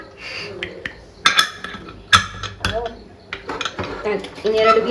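Metal cookware clanks in a home kitchen while tomato bath cooks, as a lid is set onto a pot with several sharp clinks and scrapes spread across a few seconds.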